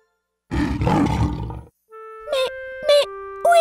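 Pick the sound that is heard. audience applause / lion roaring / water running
lion roaring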